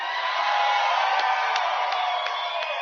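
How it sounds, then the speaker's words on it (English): Sustained applause and cheering from an election-night crowd form a continuous bright wash, with a few sharper claps standing out at regular intervals. "She's clapping for her own line."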